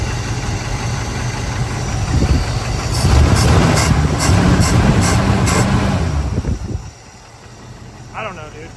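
A 1988 Grand Wagoneer engine idles with a steady low rumble that rises slightly in the middle, then drops off near the end, leaving a quieter background with a short faint sound.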